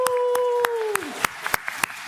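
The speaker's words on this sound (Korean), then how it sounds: "우리 영유아부 유초등부는 자리에 일어나세요. 안 보이니까 일어나시고 우리 같이 박수." Church congregation clapping together during a Sunday worship service, sharp evenly spaced claps in a steady beat, joined after a held sung or spoken tone at the start.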